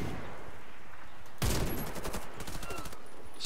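Gunfire in the online shooter Warface, with a sudden burst of automatic shots breaking in midway over a low background rumble and continuing as rapid, fairly quiet rattling.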